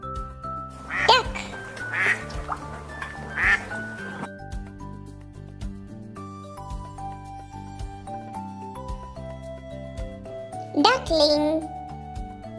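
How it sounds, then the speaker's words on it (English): A duck quacks in two bursts, a run of calls early on and another near the end, over a soft background of sustained tones. "Duck."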